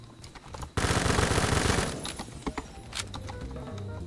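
K1A rifle fire in the game Phantom Forces: a dense, loud burst of rapid automatic shots lasting about a second, followed by scattered single shots and game noise.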